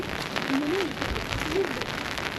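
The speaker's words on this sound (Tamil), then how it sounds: "மறுபடியும் மழை வந்துருச்சுங்க, விட்டு விட்டு வருதுங்க" Rain falls steadily at Malampuzha dam in Palakkad, Kerala, a constant broadband patter that fills the whole clip, with faint tonal sounds briefly rising over it.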